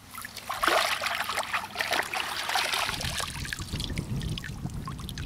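A kayak being paddled on open water: soft trickling and dribbling water with gentle splashes, steady and close, with no talk.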